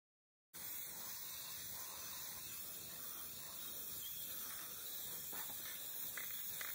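Rust-Oleum paint and primer spraying from an aerosol can onto a small boat trailer: a steady, continuous close hiss that starts abruptly and runs unbroken for several seconds at moderate level.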